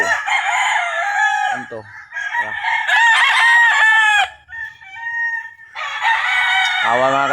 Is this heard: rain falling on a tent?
no